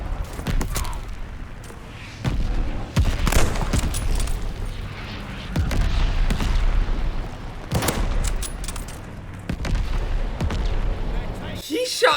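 Video game gunfire from Call of Duty: repeated loud bursts of shots and booming impacts come in clusters every second or two, close and harsh, with brief quieter gaps between.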